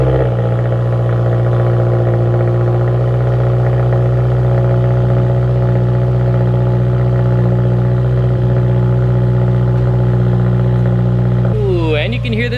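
Subaru WRX STI idling steadily on an overnight cold start, fitted with a new cheap aftermarket exhaust; a loud, continuous low drone runs throughout with no revving, and another sound breaks in briefly near the end.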